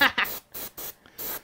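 Badger airbrush spraying paint in short bursts, four or five close hissing puffs of air separated by brief pauses, with a voice at the start.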